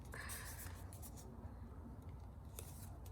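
Paper being creased and folded for an origami bomber, with soft rustling and crinkling up close and quiet, fairly steady handling noise.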